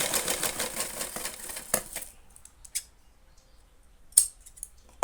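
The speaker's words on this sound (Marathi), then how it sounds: "हे बघा, एक्स्ट्रा कपडा कट करायचा।" Scissors snip away extra fabric while a hanging tassel is being made, with a dense run of close cutting and rustling at first. A few separate sharp snips follow in otherwise quiet surroundings.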